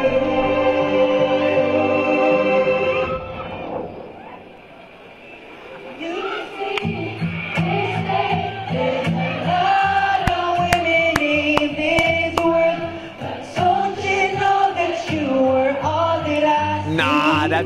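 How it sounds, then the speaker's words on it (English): A live concert crowd sings along in harmony, many voices blending into a sustained melodic chorus, with a brief lull before the massed singing swells back up loud and steady. "It sounds like harmony from the song, but it's the crowd."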